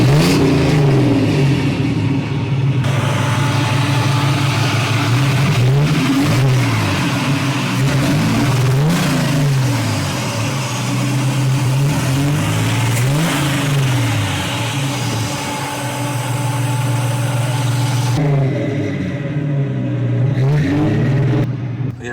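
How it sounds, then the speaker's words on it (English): A 1930s Ford fitted with an electric fuel pump and electric fan, its engine running loud and close, repeatedly revved up and down in rising and falling sweeps over an idling rumble. "I want to hear how this thing cranks up, man. I want to hear that motor."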